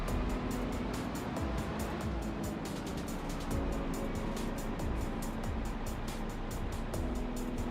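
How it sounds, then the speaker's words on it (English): A loud car engine in the Farming Simulator 25 video game rumbles steadily, with a rough, throbbing low drone and rapid pulsing texture throughout, fairly constant in level with no talk over it. "Someone has a loud car."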